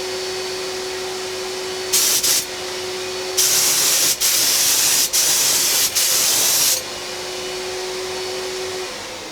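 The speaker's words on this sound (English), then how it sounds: "you can just blow through tons of material and tons of components really quickly with this spray gun system" A Fuji Mini-Mite 4 HVLP spray gun system sprays in bursts of loud, bright hissing, one short blast then three longer ones, over the constant whine of its turbine.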